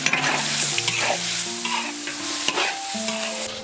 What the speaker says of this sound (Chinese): 这个肥肠可以下锅了哈